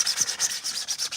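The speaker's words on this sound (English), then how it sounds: "The heavy touch-ups are going to be done with Bondo glazing spot putty, and that's what I'm sanding off here" Bondo glazing spot putty is sanded off custom Mandalorian armor in quick, close back-and-forth scratchy strokes, roughly five rubs in a second.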